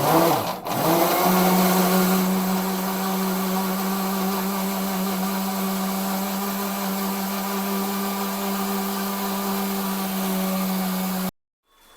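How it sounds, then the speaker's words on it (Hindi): A kitchen blender grinds tomatoes into paste with a loud, steady motor whine that stays close and constant for about eleven seconds, then cuts off abruptly. "तो चलाएं, अभी ये टमाटरों का भी बना लेते हैं अच्छी तरह पेस्ट।"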